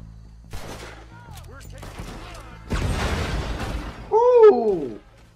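Gunfire in the video game Red Dead Redemption 2: a few sharp shots near the start, then a louder burst of overlapping blasts and a bright ringing swoop near the end, with speech-like voices mixed in.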